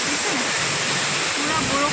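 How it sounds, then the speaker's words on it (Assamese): Steady rushing of a waterfall during rain, a broad continuous roar that never lets up, with a few faint higher whistling tones riding over the wash. "এইফালে দেখিছেনে জলপ্ৰপাতটো কিমান যে ভাল লাগিছে"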